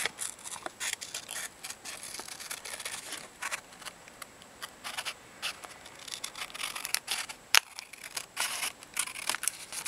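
Scissors cutting out a traced paper shape for a steampunk altered Altoid tin craft, a run of quick close snips and crisp paper rustles in an irregular rhythm, with no talking.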